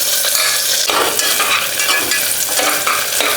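Onions sauté in a hot pan for chicken soup with green chilli and curry leaves, giving a loud, close sizzle broken by repeated scraping stirs of a spoon.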